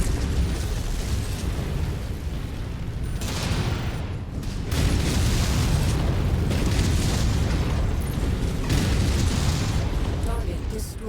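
Missiles slam into targets in the MechWarrior 5 game, making a dense, loud, continuous roar of explosions that swells in several waves, with battle noise and talk mixed through it.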